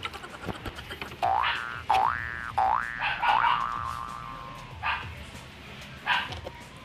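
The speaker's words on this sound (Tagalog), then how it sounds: "Ingay naman ng aso na to, nagre-record ako eh." A dog yips and barks several times, sharp rising yelps close by, with a few quieter thuds and noises in between.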